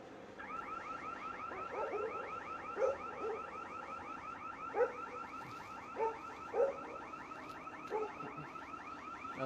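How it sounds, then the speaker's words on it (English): A building alarm goes off at a protest in Nashville, a rapid repeating warble cycling steadily at moderate distance, with occasional louder thumps and knocks breaking through. "That's the alarm to the building going off."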